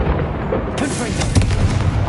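A Confringo blasting spell explodes in the Hogwarts Legacy video game, a loud booming blast with a burst of crackling debris that continues in dense rumbling bangs, with a voice shouting over the combat.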